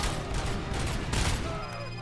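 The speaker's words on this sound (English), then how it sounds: "Someone shooting me." Rapid gunfire in the Robocop: Rogue City video game, a dense volley of shots filling the whole stretch at steady loudness, with a few louder blasts and no voice over it.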